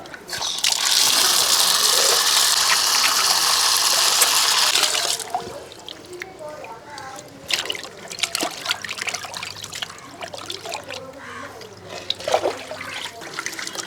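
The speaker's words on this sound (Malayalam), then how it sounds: "എല്ലാം ഒന്ന് കഴുകി വൃത്തിയാക്കട്ടെ" Pearl spot fish are washed under running water, with a loud steady gush for about five seconds, then quieter trickling, splashing and handling sounds as the fish are rinsed and rubbed clean.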